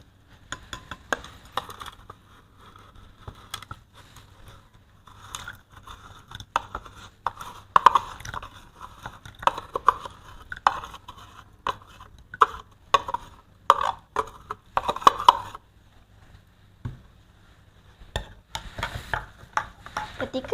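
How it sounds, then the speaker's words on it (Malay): A metal spoon scrapes and clinks repeatedly against a container while stirring sodium hydroxide into water, an irregular series of close, sharp taps and scrapes. "Aduk sehingga sebati."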